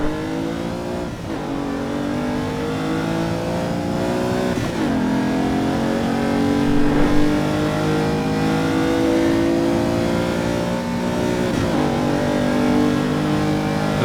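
A car engine in the racing game Assetto Corsa EVO revs up repeatedly, climbing through the gears in long rising sweeps with short drops at each shift, loud and continuous with no talk.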